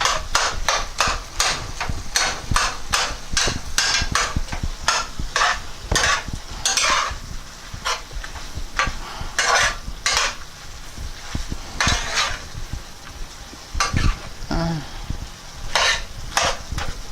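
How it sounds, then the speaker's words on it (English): Meat sauce for spaghetti being stirred in a pan, with repeated scraping and knocking strokes of a utensil against the pan over a low sizzle, steady and close throughout. "I'm mixing it in good"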